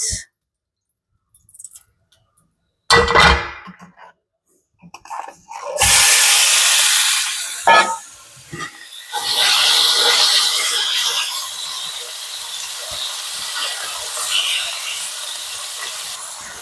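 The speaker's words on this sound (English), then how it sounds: "Now it is time to saute my meat." Meat hitting a hot pan and sautéing for a rhubarb stew, a sudden loud sizzling hiss that settles into a steady crackle, preceded by a few sharp clicks and clatters of handling, close up.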